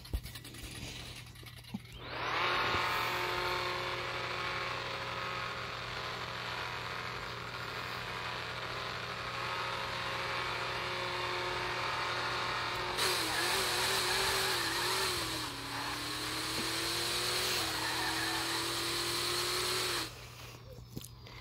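A Supra revs on the line to warm its tires in the No Limit Drag Racing 2 quarter-mile game, a sustained steady engine drone with a brief dip in pitch partway before the note climbs again and cuts off.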